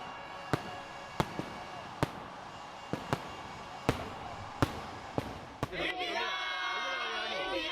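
Sharp firework bangs crack one after another at irregular intervals over Navi Mumbai, then a burst of crackling and whistling sparks fills the air near the end.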